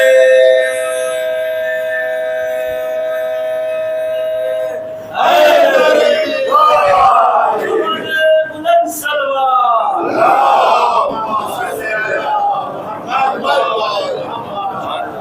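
A large crowd at a Muharram majlis in Shivli, Azamgarh loudly chants Labbaik ya Hussain slogans in repeated surging waves, following a held sustained tone.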